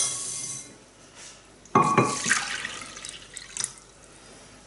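Water pours from a cup into a pot for cooking rice, a short splashing burst in the middle of the clip that trails off with light dribbles and a faint later pour.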